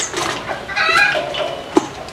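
A young fancy chicken at Kaveri Park gives a few soft clucks and short calls at close range, ending with one sharper, louder cluck, with no one talking.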